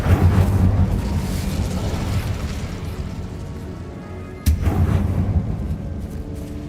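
An Incendio fire spell cast in the Hogwarts Legacy video game, a low rumbling whoosh of flame followed by a sudden sharp burst and a second roaring swell, with no voices.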